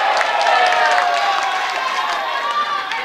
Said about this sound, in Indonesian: kita berikan tepuk tangan yang meriah untuk pasangan calon urut 1, 2, 3, dan juga 4